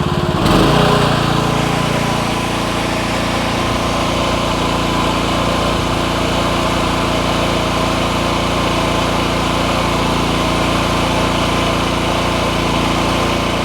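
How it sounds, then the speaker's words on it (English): A Chinese mini excavator engine revs up to full throttle and holds there, a loud, steady, close droning roar with constant vibration throughout. "I'm going to go ahead and put it on full throttle."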